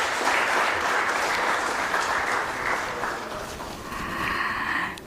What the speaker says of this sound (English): Let us give ourselves a huge round of applause.